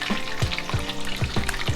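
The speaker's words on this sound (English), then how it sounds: "look how beautifully that is frying up" Battered fish fries in a pan of hot oil, copycat Long John Silver's style, a steady close sizzle broken by regular soft knocks, likely from stirring or moving the pieces, with no voices.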